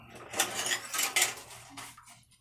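Cooking dishes, pots and utensils are washed by hand, with a few close clinks and clatters of metal and crockery in quick bursts over a soft background.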